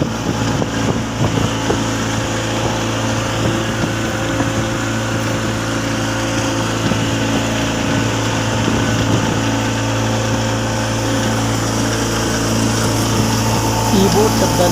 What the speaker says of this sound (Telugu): ఈ మోటార్ వల్లనే ఈ బోట్ అనేది ఇంత వేగంగా వెళ్తుంది ఫ్రెండ్స్.